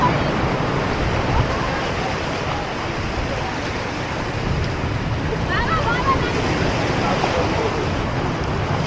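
Strong tide waves crash and wash continuously along Butterfly Beach in Goa, a broad steady roar of surf mixed with wind buffeting the microphone.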